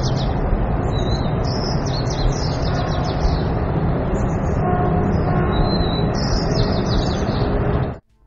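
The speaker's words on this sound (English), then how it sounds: "This one, the birds traffic." Birds chirp and tweet continuously over a steady wash of traffic noise, several overlapping calls near and far, until the recording cuts off abruptly near the end.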